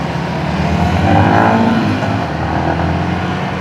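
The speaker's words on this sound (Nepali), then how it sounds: "लन्चै नभएको बाइक चलाएर हिँडिरहेको छु" A Yamaha XSR155 motorcycle cruises on the road, its engine a steady close drone with wind noise that swells briefly in the middle, with no speech over it.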